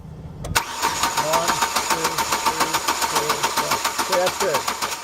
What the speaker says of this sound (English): So Tom is going to crank the engine now, and we're going to watch this for 5 strokes